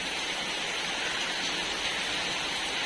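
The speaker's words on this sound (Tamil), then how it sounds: "மழையும் நல்ல மழை பெஞ்சிட்டு இருக்கு எங்கள் ஏரியாவில்" Heavy rain pours down steadily in a tree-filled residential area, a dense, even hiss with no breaks and no voices, heard at a moderate distance.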